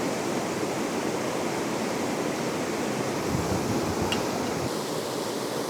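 An autumn waterfall rushes in a steady, dense roar of falling water and foam, constant and fairly loud from start to finish with no voices.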